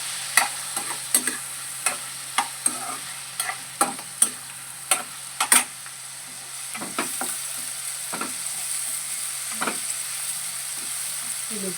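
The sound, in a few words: tomatoes cooking in a pan for eggplant pea curry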